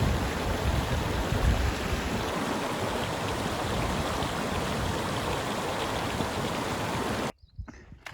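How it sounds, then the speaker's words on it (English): A small cascade pours down in the Mount Zirkel Wilderness, its steady broadband rush of falling water holding nearby and constant for about seven seconds before cutting off abruptly. "coming in right over here is another pretty little waterfall or cascade."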